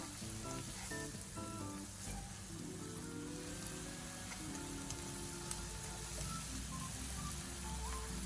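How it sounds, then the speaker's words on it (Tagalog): Onion sautéing in a hot pan after garlic, a steady close sizzle and crackle of frying that runs without pause, with a faint tonal hum in the background. "Isutay lang natin to hanggang sa mag-caramelize."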